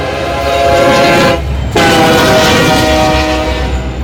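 A Union Pacific locomotive leading a westbound intermodal train sounds its multi-chime horn, two long loud blasts close by with a short break between, over rumbling train noise.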